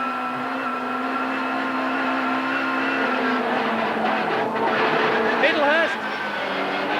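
Touring race cars from the 1991 British Touring Car Championship at Silverstone, a pack of five engines screaming together at speed, steady and loud with shifting pitch as they pass, under continuous commentary.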